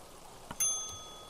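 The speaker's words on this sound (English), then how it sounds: "Let's ring the bell here then." A single metallic ding of a desk bell rung at a reception counter, a short bright strike with a ringing tail that fades over about a second, close and clear in a quiet room.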